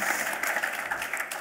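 Studio audience giving brief applause at a German sports talk show, a steady patter of many hands clapping, moderately loud and continuous for a moment.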